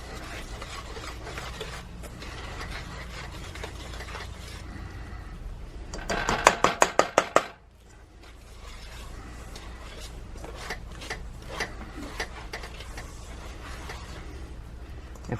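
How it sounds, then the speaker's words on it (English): Whisking batter for chocolate zucchini bread in a bowl, a rapid scraping and clicking of the whisk, loudest in a fast burst partway through, then slower rhythmic rubbing strokes. "you're going to want to whisk this all together."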